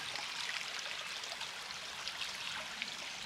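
Minister Creek in Allegheny National Forest, Pennsylvania, runs in a steady, even babble of water over stones, moderately close and unbroken, with no voices.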